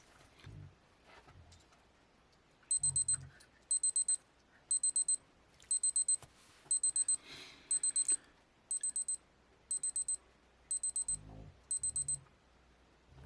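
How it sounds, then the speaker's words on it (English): Casio DW-5600 G-Shock watch timer alarm, a run of about ten short bursts of rapid high electronic beeps, evenly spaced and close, with quiet room noise between. "let's just hit the timer on the Casio so you can hear what happens after"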